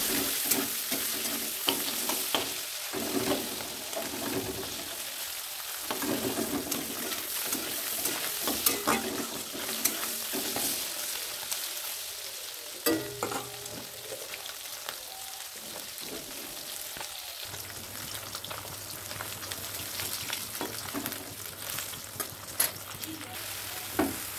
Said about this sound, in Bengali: মাছের ডিমটা ভেজে নিচ্ছি।